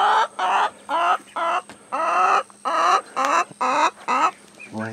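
Chickens and a rooster cluck in rapid, close, repeated bursts while pecking at cantaloupe seeds, pulp and rinds, each call short and loud with brief gaps between.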